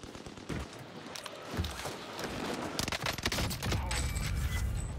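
The Itra Burst gun fires in the Warzone video game as rapid bursts of gunfire, loud and dense over a busy game background, with shots growing heavier toward the end.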